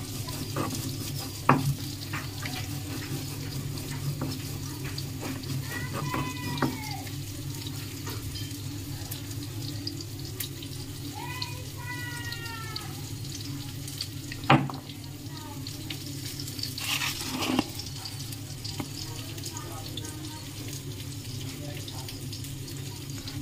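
Potatoes fry in a pan with a continuous gentle sizzle, while nearby kitchen clatter, running water and a few brief knocks sound throughout.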